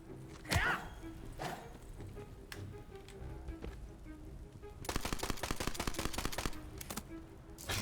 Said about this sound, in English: Just randomly shooting.